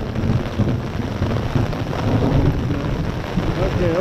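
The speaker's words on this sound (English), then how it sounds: "The storm hasn't passed" A thunderstorm with rain makes a loud, dense, continuous roar that surrounds the listener, with a low rumbling undertone and no voices.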